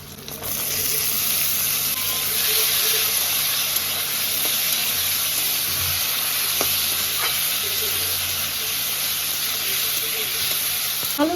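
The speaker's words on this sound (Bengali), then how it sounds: "এবার ভালো করে নাড়াচাড়া করে দেবো এবার আমি দিয়ে দেবো কেটে রাখা আলু" Cut potatoes fry in hot oil in a pan with spices and a little sugar, a loud steady close sizzle and hiss running throughout while faint stirring scrapes sound now and then.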